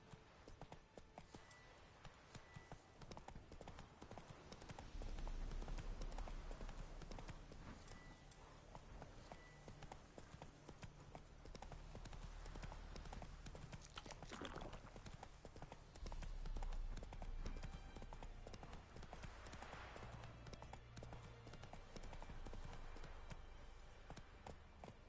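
Galloping horse hooves in The Witcher 3 beat in a rapid, continuous clip-clop for the whole stretch, faint and set beneath rumbling game ambience and music.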